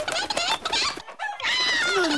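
Cartoon hens cluck in a farmyard in a clear, busy run of short squawks and chatter that breaks off briefly midway, then resumes loud and close.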